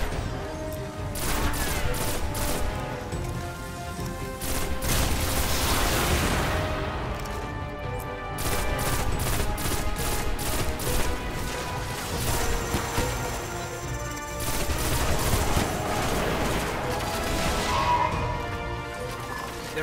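Sustained bursts of rapid gunfire from a shooter video game fighting the Fallen during an Outbreak Prime mission, loud and dense with repeated volleys, explosive impacts and brief lulls between the firing streaks.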